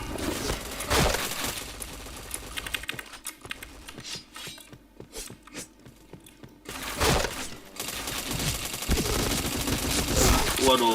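Rapid bursts of gunfire from a shooting video game, loud and dense at the start and end with a quieter stretch in the middle, mixed with clicking and a voice talking over the action.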